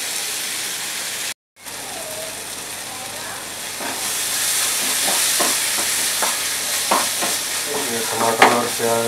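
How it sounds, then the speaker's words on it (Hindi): Tomato and onion frying in a pan for paneer bhurji, a steady sizzle and hiss with stirring scrapes and clinks growing busier toward the end, heard close and alone. "इसे 1 से 2 मिनट भूनेंगे,"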